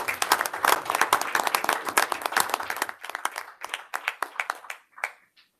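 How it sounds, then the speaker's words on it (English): An audience at a school board meeting claps after a musical performance, with dense, loud applause that thins into scattered, fading claps toward the end. "Let's give everybody a round of applause."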